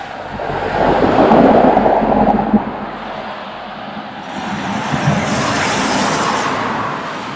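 Steady roadway traffic roars past on a busy road near Eton, with the wash of vehicles swelling and fading over several seconds and no speech.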